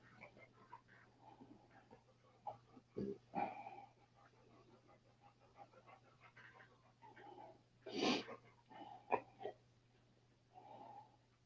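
A dog resting on a couch breathes close to the mic, with quiet wheezy, snuffling breaths and a couple of louder snorts over a steady low hum.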